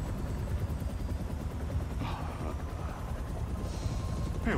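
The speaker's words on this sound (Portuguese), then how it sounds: "Tô sentindo a hélice do helicóptero no controle, cara." Helicopter rotor in the video game Marvel's Spider-Man 2, a low, rapid chopping throb that stays close and constant, with brief higher mechanical whooshes over it.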